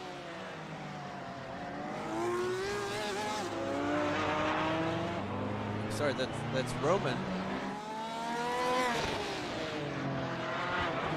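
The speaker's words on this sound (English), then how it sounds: "this is Jacob's black GT4 Cayman that he is bringing around now" A black Porsche Cayman GT4 race car at Long Beach in a racing game, its engine revving and shifting through loud rising and falling pitches with brief tire squeals, under continuous commentary.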